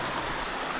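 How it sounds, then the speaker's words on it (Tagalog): A river in northern Palawan flows steadily, a dense even rush of water with no breaks, close and moderately loud, with no voices. "May ilog tayo na daanan."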